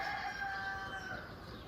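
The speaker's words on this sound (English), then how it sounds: "thank you, cockerels, for entertaining us with your calls" Cockerels crow faintly in the distance, one drawn-out call trailing off over low outdoor background noise.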